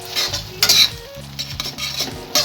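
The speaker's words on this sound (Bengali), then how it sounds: "চিনিটাকে ভালো করে মিশিয়ে নেব।" A spoon stirs sugar into simmering onion poppy seed curry in a pan, with steady scraping, soft sizzling and occasional clinks of metal against the cookware, close and continuous with no talking.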